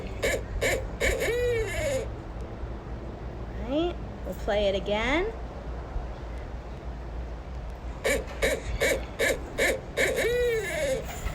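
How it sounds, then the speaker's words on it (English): Recorded call of a large Florida swamp owl played back, bursts of rhythmic hooting and wavering, rising-falling whoops in two runs separated by a pause, with a person briefly speaking over it. "those sounds come from a larger type of owl that we have in Florida"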